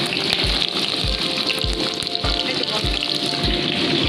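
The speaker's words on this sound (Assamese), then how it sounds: "এইফালে পানী উতলি গ'ল।" Water bubbles at a boil in a cooking pot, a steady hiss with regular low popping bursts of bubbles, fairly close, with no speech.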